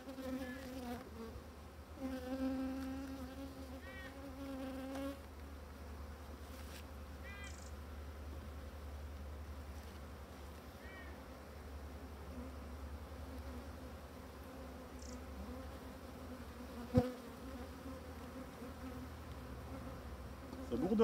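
Dense buzzing of many honeybees close by at an open hive in spring, droning continuously with shifting pitches as insects fly around, and a sharp click near the end.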